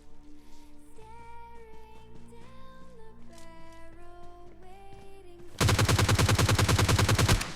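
Rapid automatic gunfire from the shooter game PUBG Lite erupts loud and close in a dense burst over the last two seconds, after a stretch of tonal music with no talk.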